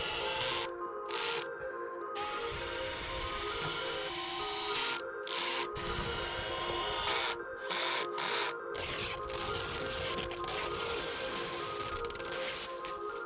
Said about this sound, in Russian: Планку сразу фиксирую к газобетонной стене с помощью кровельных саморезов длиной 6 см.